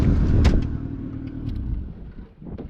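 An old Vauxhall car engine idles roughly and loudly nearby, a steady low rumble with a few clunks and rattles in a garage.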